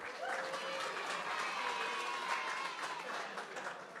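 Audience applause for a DJ at a charity art auction, a dense, steady wash of clapping that holds at an even level for about four seconds, with a few faint voices and whistles mixed into the crowd.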